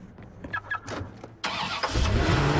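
A car engine starts in the video game Watch Dogs, in a parking lot where random cars spawn. A brief crank catches and settles into a steady, fairly loud idle with a rising rumble.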